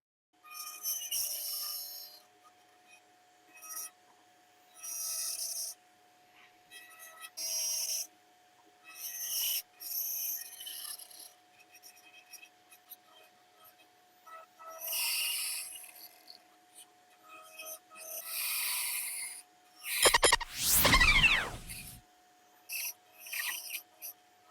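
Hand carving of a weird haunted house with a fine-tipped tool produces repeated short bursts of scraping and rasping, separated by brief pauses, close and moderately loud, with one heavier scraping pass near the end.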